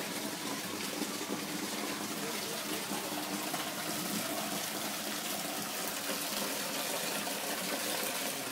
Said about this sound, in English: Straight up, first time, and we're away for siphoning.